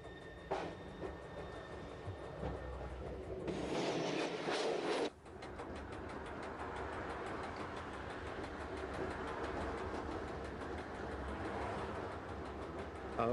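Rack railway tram on the line near St. Gallen, Switzerland, descending a steep gradient, with steady rolling rumble and a rhythmic clatter of wheels on track, plus a louder burst of grinding noise partway through.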